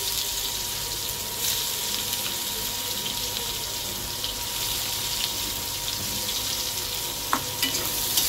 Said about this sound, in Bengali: প্রথমে কালো জিরে দিলাম তেলের মধ্যে। এবার পেঁয়াজ কুচিগুলো দিয়ে দেবো সব।